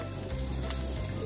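Cubes of paneer fry in a pan with a steady, close sizzle, alone and without any voices.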